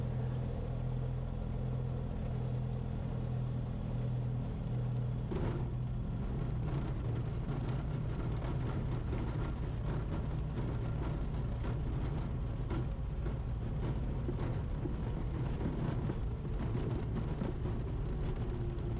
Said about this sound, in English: There's a tractor cutting on the right.